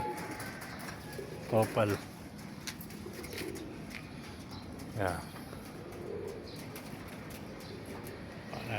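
Tipler and opal breeder pigeons in a loft coo softly and flap their wings in a few short close bursts, with someone speaking briefly amid the birds.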